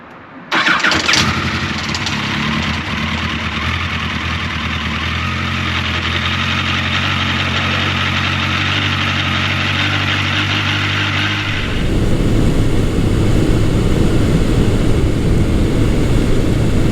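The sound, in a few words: Yamaha FJ1200 motorcycle engine starting and running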